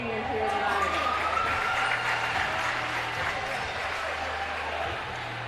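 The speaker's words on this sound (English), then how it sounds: "Let's give a round of applause for all these amazing seniors here tonight." Crowd applause at a high school basketball senior night in a gym, steady and loud for several seconds with thumping sounds underneath, fading slightly toward the end.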